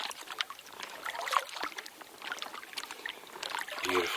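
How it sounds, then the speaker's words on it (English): Canoe paddling in the shade along a lake edge: soft irregular splashes and drips of the paddle dipping and lifting, quiet and close, with no talk. "Paddling in the shade along the edge of this lake."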